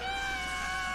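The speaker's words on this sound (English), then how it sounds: "Let me guess, this cat belongs to you." A cat meows once, a sustained tonal cry in an anime episode, heard over a low background hum with no speech.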